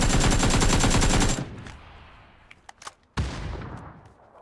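Rapid automatic gunfire in PUBG rattles loudly for over a second, then stops abruptly, followed by a few scattered single shots and one sharp close report, with a fading echoing tail.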